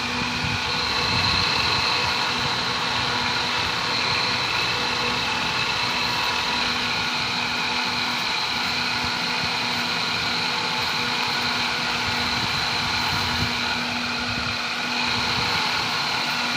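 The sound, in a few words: strong fan of a Massey hay baler running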